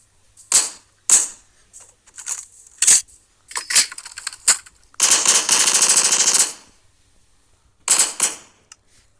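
Guns fired in a video game, including an MP weapon: sharp single shots and short bursts spaced across the clip, with one sustained rapid automatic burst in the middle, loud and close.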